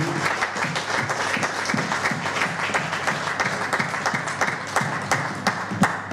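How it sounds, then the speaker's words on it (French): An audience in a church applauds steadily, a dense run of close, rhythmic clapping that carries on for several seconds with no talk over it. "Acclamons très fort la parole de Dieu."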